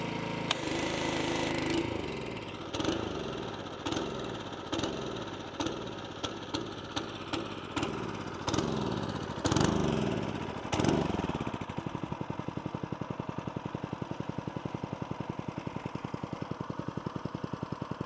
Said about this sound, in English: That pressure washer, I have no idea what's going on with it